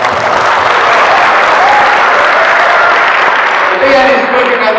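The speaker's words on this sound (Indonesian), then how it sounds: "Tepuk tangan untuk Anda semua." Audience applause fills a lecture hall at a university talk on the creative economy, a loud, steady wash of clapping throughout with no pauses.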